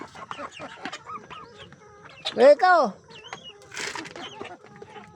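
Chickens clucking close by in a rural province, with one louder squawking call in the middle and a person speaking briefly among the bird sounds.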